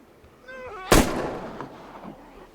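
A Magnum revolver fires a single loud, sharp shot in the zombie survival game Into The Dead, followed by a decaying echo. Brief game sounds come just before it.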